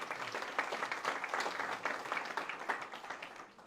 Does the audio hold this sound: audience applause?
yes